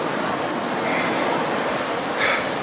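Ocean waves washing onto a beach on a cloudy day, a steady loud broadband rush with a brief swell of surf near the end, no talking.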